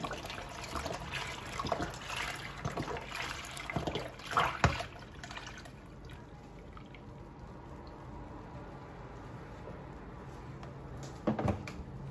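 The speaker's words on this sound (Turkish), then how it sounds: "İki litre sütü ilave edelim tencereye." Milk pours into a pot in a soft, continuous liquid rush for several seconds, close by, then fades to quiet, with a faint knock near the end.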